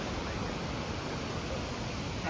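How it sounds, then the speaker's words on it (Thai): Tad Yueang waterfall near Pak Chong in Thailand roars as a steady, loud broadband rush of falling water with no break. "น้ำตกตาดเยื่อง"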